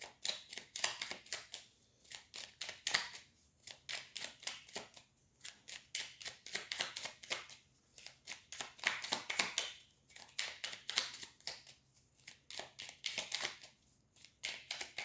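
Tarot cards being shuffled by hand, a steady run of close, crisp riffling and flicking bursts separated by brief pauses, with no talking.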